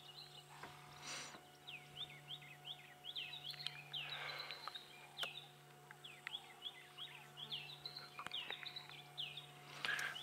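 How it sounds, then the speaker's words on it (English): Wild birds call at dawn on an African safari, a steady scatter of faint chirps and short whistled notes repeating across the quiet bush, with occasional soft clicks and no talking. "Oh, some wonderful bird calls around."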